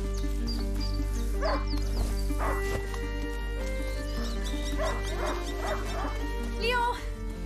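Hunting dog Leo barks in brief bursts in the game A Plague Tale: Innocence, the yips and woofs rising over a steady musical score and ambient bed, with horse-like sounds mixed in.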